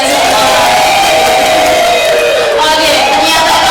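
Schoolchildren in a classroom cheer and shout together, a loud, continuous mass of young voices with clapping folded in, holding at full strength throughout.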